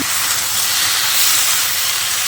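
Malabar spinach greens hit a hot pan of already-fried ingredients, giving a loud, steady steamy hiss that fills the whole moment without a break, with no talk over it.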